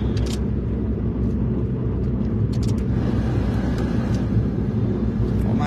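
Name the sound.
car engine running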